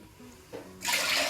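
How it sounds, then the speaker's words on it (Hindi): Two bowls of water poured into a cooking pot in a home kitchen while making tomato papad: a short, loud gush of splashing water arriving after a brief quieter stretch, heard alone. "इस बर्तन के अंदर हम 2 कटोरी पानी डाल देंगे।"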